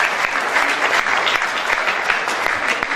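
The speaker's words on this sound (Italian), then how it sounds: "grazie, applauso" An audience at a book presentation applauds steadily for the full stretch, dense and even clapping from a seated crowd with no break or talk over it.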